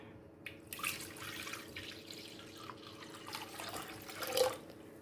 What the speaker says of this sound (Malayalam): അതിൽ നിന്ന് കിട്ടുന്ന വെള്ളമാണ് ഇത് ഞാൻ മൺചട്ടിയിലേക്ക് ഒഴിക്കാം